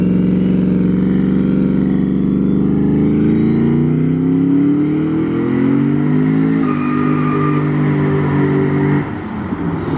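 A turbocharged Chevrolet Colorado engine with failing oil pressure revs hard and loud, the tone climbing steadily with a rising turbo whine, then the revs drop off abruptly near the end.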